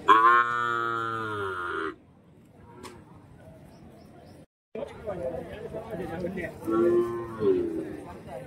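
Calves and young cattle at a busy livestock market: one loud, close moo opens, followed by quieter bellows and a second moo later, with traders chattering throughout and a brief drop in the noise midway.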